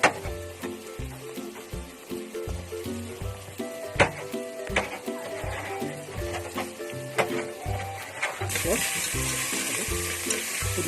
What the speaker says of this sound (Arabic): ودلوقتي بقلب اهوت البصلة بعد ما حطيت قرن الشفيفة الحامية الحارة ديت عشان يبقى حامي